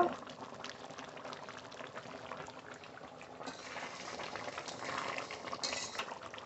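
Taro curry with mung dal (mukhi kochu) simmering in a pot on the stove, a steady close bubbling and sizzling hiss that swells slightly louder toward the end, heard alone without talk.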